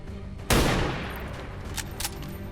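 A sudden burst of gunfire in the video game XCOM: Long War of the Chosen, one sharp, loud volley that decays over about a second, followed by fainter game sounds.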